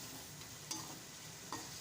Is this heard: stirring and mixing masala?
yes